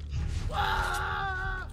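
A male character in the video game Assassin's Creed 2 lets out a drawn-out pained yell lasting about a second, loud and close over a low game background rumble.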